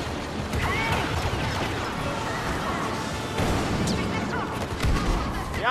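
Blaster gunfire from the Star Wars Battlefront video game, with stormtroopers in combat: a busy, continuous clatter of shots and explosions fills the scene at moderate loudness, with some faint voice-like sounds mixed in.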